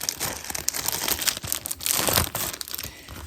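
A stiff plastic vinyl sleeve, firmer than ordinary vinyl, is handled close up, crinkling and crackling in busy irregular bursts with no speech.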